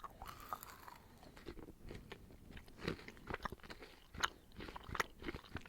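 Close, irregular crunches and bites as a crunchy Danish gourmet licorice candy is chewed, with sharp cracks scattered between quieter chewing.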